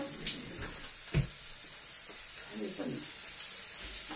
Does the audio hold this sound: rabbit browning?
yes